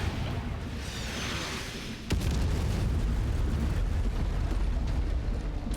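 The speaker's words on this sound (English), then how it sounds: "There's been no artillery this whole match, and all of a sudden it just starts showing up." MechWarrior 5 battlefield, where artillery strikes land in a sharp blast followed by a sustained heavy rumble of explosions and debris, loud and near, with no talk.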